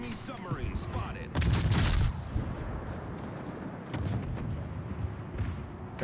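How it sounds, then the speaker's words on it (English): Naval gunfire in a warship video game: deep booming cannon blasts and rumbling impacts, with one loud burst of salvos near the start and a second swell of firing later, mixed with game sound effects. "now they're taking shots at me finally"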